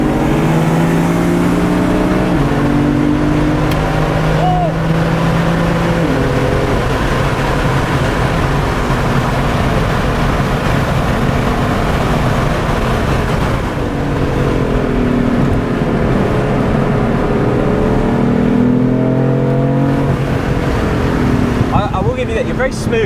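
A BMW F80 M3 being driven hard on a race track, heard from inside the car. The engine drones loud and close, its pitch sweeping up and down as the revs climb and fall through gear changes.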